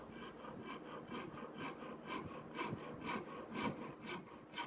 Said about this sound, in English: now I'm going in with the saw rasp and carving in the final profile